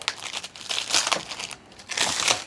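Protective plastic film is peeled off a 9-inch round offroad LED driving light, a close, loud crinkling and crackling in several bursts with a short lull between them.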